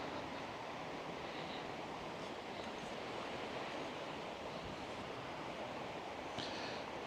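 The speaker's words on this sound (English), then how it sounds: "The river sounds very busy." A busy river flows out of sight on a calm evening in rural Wales, giving a steady, broadband rushing wash that holds constant throughout at moderate, somewhat distant loudness with no voices.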